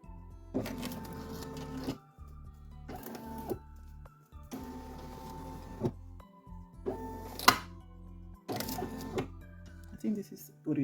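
Single-needle embroidery machine shifting a hat hoop to trace a design, giving several short bursts of mechanical whirring and motor stepping separated by pauses, close and fairly quiet.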